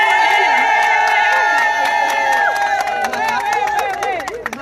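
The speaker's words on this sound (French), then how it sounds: "je voudrais que vous ayez un tonnet d'applaudissements" An event audience claps, cheers and shouts loudly all together, with high excited voices over steady applause that begins to fade toward the end.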